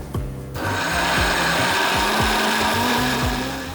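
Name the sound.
grinding cardamom and unniyappam batter ingredients in a mixer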